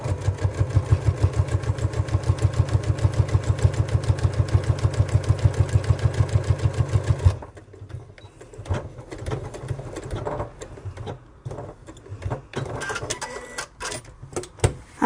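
A sewing machine runs a line of top stitching at stitch length 3, a loud rapid even rhythmic chatter for about seven seconds, then stops and gives way to sparse handling clicks and knocks.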